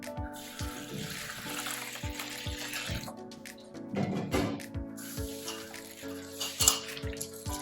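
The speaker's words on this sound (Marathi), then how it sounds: "आता हे पोहे आपल्याला चांगले 1-2 पाण्याने धुवून घ्यायचे." Thick poha (flattened rice) is washed in water in a kitchen. Steady running and splashing water goes on throughout, broken by repeated soft knocks and sloshes close by.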